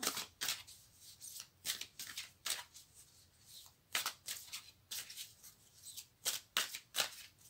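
Tarot cards being shuffled by hand in a quiet room, a series of crisp riffling bursts in an irregular rhythm, close and clear with no talking.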